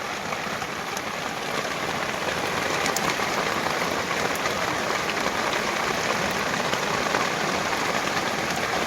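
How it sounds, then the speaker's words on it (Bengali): Heavy rain pours over the Matla river in the Sundarbans forest, a dense, even hiss of downpour that holds steady and unbroken from start to finish with no voices. "আমাদের বাইরে এত বৃষ্টি হচ্ছে"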